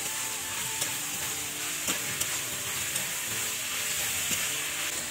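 Spice paste with onion and garlic fries in a pan with boiled chickpeas and potatoes, giving a steady, close sizzle broken by a few sharp spoon scrapes and taps, with no talking.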